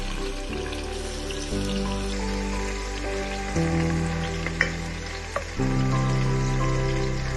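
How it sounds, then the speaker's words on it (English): Sliced onions hit a hot pan with oil and sizzle loudly and continuously up close, a dense crackling fry with a few brief pops and stirring clicks over several seconds. "in goes the sliced onions. Listen to that sizzle."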